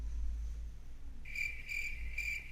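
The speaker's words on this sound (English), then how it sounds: "Crickets?" Crickets chirp in three short, evenly spaced bursts over a low background hum, steady and moderately close, with no talking.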